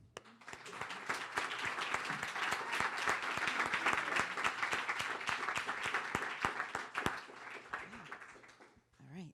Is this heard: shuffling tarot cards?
no